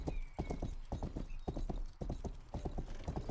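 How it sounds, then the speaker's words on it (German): Horse hooves clip-clop in a quick, steady galloping rhythm while riding in the video game Rustler, loud and close, the beats grouped in repeating triplets with faint game ambience beneath. "Reiten wir erstmal ganz kurz in die Stadt"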